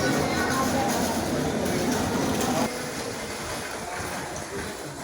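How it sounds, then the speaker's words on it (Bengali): A train stands at Chittagong railway station while its engine is changed. A loud broadband rumble of engine and rail noise fills the clip, then drops to a lower, steadier level about halfway through. "কিভাবে একটি ট্রেন তার ইঞ্জিন চেঞ্জ করে"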